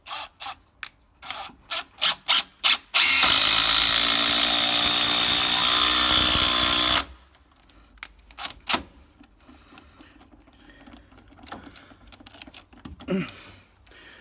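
A DeWalt cordless drill on a 6 amp hour battery drives screws. After a few short bursts, one long loud continuous run follows, then scattered quieter clicks and handling noises.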